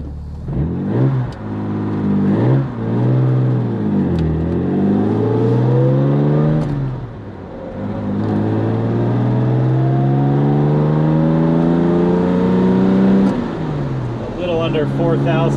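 A Jaguar E-Type coupe engine rumbling steadily at about 2,500 RPM in fourth gear on a highway, loud and close with rising pitch through gear changes, someone talking over it.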